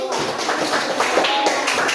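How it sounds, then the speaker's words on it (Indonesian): A third-grade primary school class applauding a student group during a lesson on Surah An-Nasr: dense, rapid clapping from many hands, mixed with children's voices. "tepuk tangan untuk kelompok 2"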